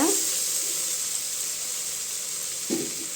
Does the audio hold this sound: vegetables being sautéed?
yes